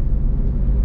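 Toyota Veloz 1.5 manual, a 2021 car, rolls over a speed bump, giving a steady low cabin rumble of road and engine noise with no distinct thump standing out, heard from inside.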